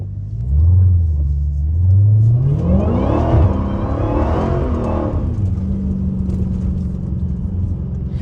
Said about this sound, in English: I hope my car ain't too loud.